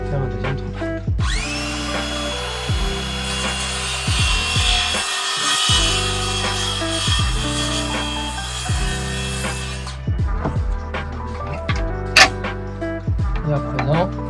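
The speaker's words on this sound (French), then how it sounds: "on va faire un deuxième trait de coupe" A hand saw cuts a second kerf in wood for a beehive, with loud, close, rhythmic back-and-forth strokes repeating steadily, one brief pause, then a few final strokes.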